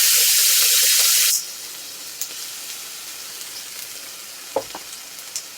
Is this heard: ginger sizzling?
yes